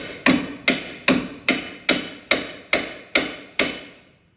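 A hammer strikes ten times at a steady pace, driving a wheel bearing hub into a 2003 Ford Escape. Each blow is a sharp, loud metallic impact with a short ringing decay, heard close and alone.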